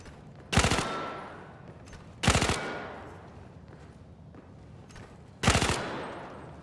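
Three separate bursts of rapid automatic gunfire from a weapon in the VR shooter Zero Caliber VR, each short volley loud and close, separated by pauses of a second or more.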